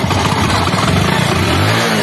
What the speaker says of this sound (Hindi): जो हमारी बाइक थी सीडी डिलक्स वो स्टार्ट हो गई है।